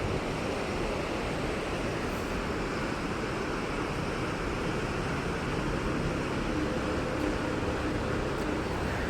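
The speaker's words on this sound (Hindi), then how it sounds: "इस पानी का फ़्लो भाई इतना ज़्यादा तेज़ है, आवाज़ सुनने में बड़ा मज़ा आ रहा है" A fast-flowing mountain river on the landslide-damaged Kedarnath trek route rushes past close by, a dense, steady roar of churning water with no pauses or voices.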